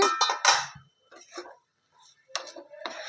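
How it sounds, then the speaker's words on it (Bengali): A metal lid lifts off a pot of sabudana pulao with a few sharp clinks and clatters, then quieter scraping knocks after a pause. "ঢাকাটাকে তুলে দিচ্ছি"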